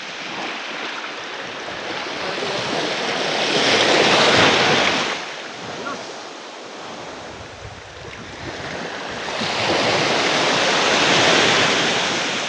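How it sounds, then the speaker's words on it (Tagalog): Big ocean waves surge and crash in a continuous broadband roar that swells in two strong peaks, near and loud, with wind buffeting the microphone and no voices. "Laking alon. Grabing alon mga idol."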